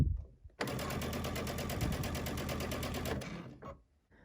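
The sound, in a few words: sewing machine stitching a quilt with walking foot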